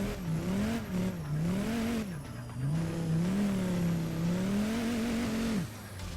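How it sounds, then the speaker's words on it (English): A Mercedes turbo diesel car engine in the game Assetto Corsa revs up and down repeatedly with a rough, throaty diesel tone, rising and falling in steady surges. "I guess it's a turbo diesel Mercedes, the way that it sounds"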